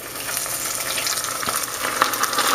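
Chicken flautas frying in oil that is too hot, giving a steady, loud, bright sizzle with crackling pops throughout and no talk.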